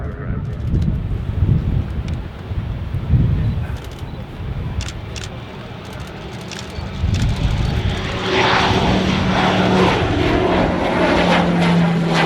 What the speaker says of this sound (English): it's got a well-proven engine up the front, the PT6 engine from Pratt & Whitney, 750 shaft horsepower.